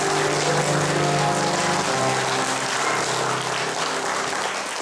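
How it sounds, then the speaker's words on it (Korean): Guests at a wedding ceremony applauding after the couple is pronounced married, a dense continuous burst of clapping that stays loud and even for several seconds with music faintly underneath. "심차게 박수로 기울여 주시기 바랍니다."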